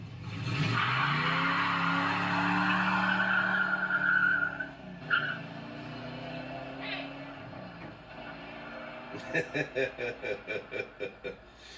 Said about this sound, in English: do a little burnout, man